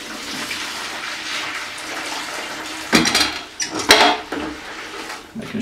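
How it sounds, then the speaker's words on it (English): Vercon cleaning solution poured into water around a submerged can, a continuous watery splashing with a few sharper clinks and sloshes toward the end, close and fairly loud, with no talk. "Slowly pour it in around the can."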